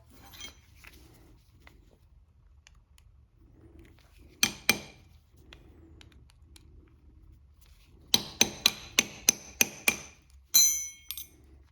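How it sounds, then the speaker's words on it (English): A screwdriver pries a stuck oil drain plug gasket off the drain plug of a 2023-2025 Toyota Prius hybrid, giving a single metallic tap and then a quick run of sharp, close clinks in an otherwise quiet garage. "You can either tap it with a wrench or use a screwdriver to pull it off."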